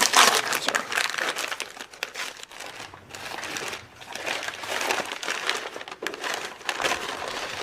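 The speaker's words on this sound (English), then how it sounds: "This is what it actually sounds like when I'm at Wendy's trying to get my sandwich out of the bag." A paper fast-food bag from Wendy's crinkles and crumples continuously as a sandwich is pulled out, with dense, close, crackling rustles and short bursts of sharper crunching throughout.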